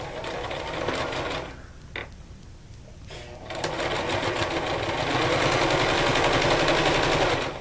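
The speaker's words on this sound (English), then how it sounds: "Careful not to hit those pins with your sewing needle." A sewing machine runs close up as it stitches fabric pieces for a tic tac toe game. It makes a fast, even mechanical whir that stops briefly, starts up again and keeps running loud to the end.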